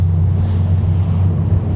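Spray from boat wakes on Lake Guntersville washes over a moving boat, a loud, steady rush of splashing water mixed with wind buffeting and a low engine drone.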